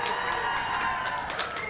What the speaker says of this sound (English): Can I have a cheer from everyone who's been at Relay before?